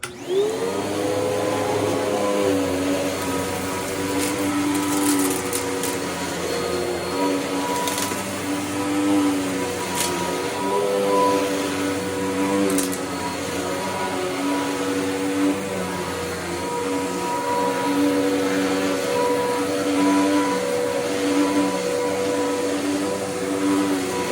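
Shark Tornado CK14/1 Pro vacuum cleaner running steadily and loud throughout while cleaning up dirt, a continuous motor whine with occasional sharp ticks and rattles of debris being sucked in.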